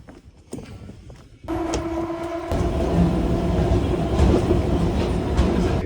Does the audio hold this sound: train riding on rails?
yes